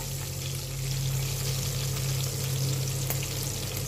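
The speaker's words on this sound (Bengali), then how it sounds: "দেখো কাঁচা লঙ্কা কটা চিড়ে ফোড়ন দিয়ে দিলাম।" Green chillies slit and tempered in hot oil in a home kitchen pan, giving a steady, loud, close sizzle and crackle of frying throughout, with no talking.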